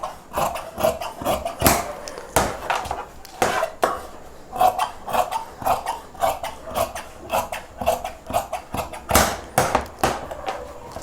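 Scissors cutting chudidhar pant fabric on a table, a close series of sharp crunching snips and clacks in an irregular rhythm, with occasional knocks of the blade against the surface.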